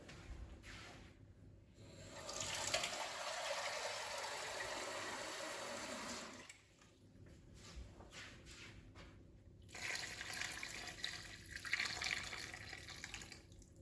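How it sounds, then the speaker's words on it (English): Water pours from a tap into a stock pot of giblets and vegetables, a steady splashing stream that stops midway, then resumes with lighter trickling and drips. "A bit more water in there just to cover it."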